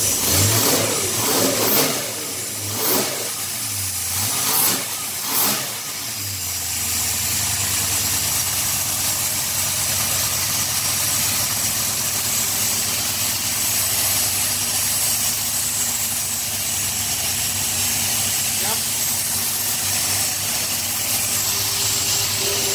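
A Chevy car engine revs in several sharp bursts, then settles into a loud, steady idle that runs close and continuous for a long stretch.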